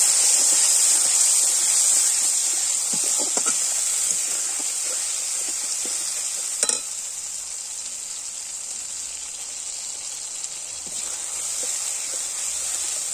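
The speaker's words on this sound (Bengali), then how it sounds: "দিয়ে এটাকে আমি একটু নাড়াবো" Green banana mash being stirred in a hot pan with salt and sugar, giving a steady, close hiss and sizzle with a few faint scrapes.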